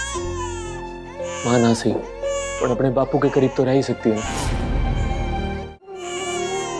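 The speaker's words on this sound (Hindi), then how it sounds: "बच्ची बहुत टाइम से रो रही।" A baby cries in wailing bursts while an adult speaks softly nearby.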